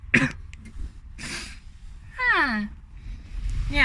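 A short burst of coughing linked to asthma, heard up close: a sharp cough at the start, then a few softer throat sounds and breaths, with brief voice-like sounds in between.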